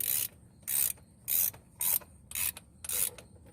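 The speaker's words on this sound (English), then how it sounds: "throw that on the end of a ratchet to help take this oil filter off." A ratchet loosens the oil filter on a 2011 Ford Expedition, six short bursts of rapid clicking separated by brief pauses, close and fairly quiet.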